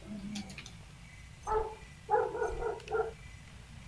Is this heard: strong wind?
no